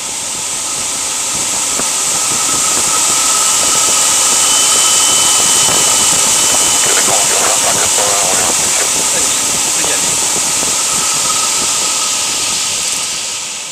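A light aircraft's engine roars and hisses loudly and steadily through the takeoff run on a runway, a constant broad drone that swells slightly in the middle.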